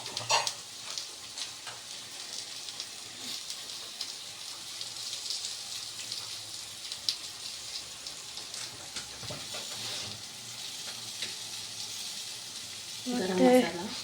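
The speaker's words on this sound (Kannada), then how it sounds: "ಈಗ ಈರುಳ್ಳಿ ಕೂಡ ಗೋಲ್ಡನ್ ಬ್ರೌನ್ ಆಗಿ ಫ್ರೈ ಆಗಿದೆ" Onions frying golden brown in oil with salt, turmeric and spices, a continuous hissing sizzle heard close and fairly faint throughout, with a brief louder burst near the end.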